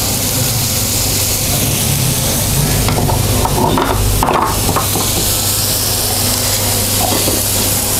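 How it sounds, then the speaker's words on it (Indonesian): Cut goat satay sautéed briefly in a pan, a steady close sizzle with stirring and scraping clatter throughout, sharper utensil knocks near the middle, no talking. "Kita tumis sebentar."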